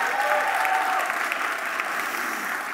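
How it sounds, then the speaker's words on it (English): An audience applauds at a school-focused livestream event, sustained even clapping from a crowd that stays loud and continuous, heard alone without any voice over it. "So give yourselves a round of applause."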